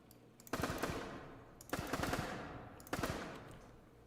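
Minecraft gun firing in a retro online first-person shooter, three loud rapid-fire bursts about a second apart, each rattling off quickly before trailing away, with no talking.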